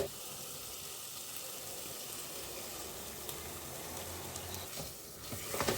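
Carrots for a jaggery gajar halwa fry in a pan with a continuous soft sizzle and hiss, joined by faint stirring scrapes near the end.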